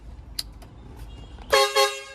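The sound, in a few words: truck horn being tested after installation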